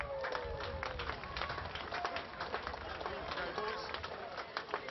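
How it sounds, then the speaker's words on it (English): Crowd applause for a team at a rugby league nines tournament, dense continuous clapping heard over and under a voice on a public address. "Another round of applause,"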